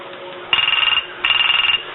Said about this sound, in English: There it is. It's ringing the 312 right there.